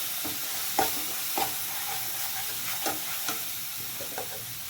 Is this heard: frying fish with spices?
yes